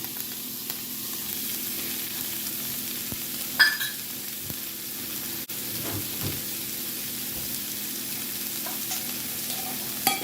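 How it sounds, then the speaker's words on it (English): Half a cup of mushrooms sautés in a heated pan, giving a steady, even sizzle with a couple of brief clinks and scrapes from stirring. "Mushrooms are sauteed, a half a cup as well"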